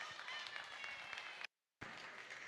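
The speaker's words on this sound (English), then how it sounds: "Let's give them a round of applause." A crowd claps steadily in a dairy goat show arena, a faint and even patter of many hands broken once by a brief silent dropout before resuming.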